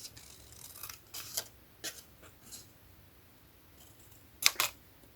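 Scissors snip through scraps of card for a handmade Christmas card, a few quiet separate cuts scattered over a near-silent background, with one sharper double snip toward the end.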